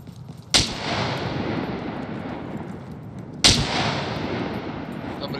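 Two loud gunshots from The Realm, a PvP survival game, each a sharp crack followed by a long rolling echo tail, spaced about three seconds apart with no talk.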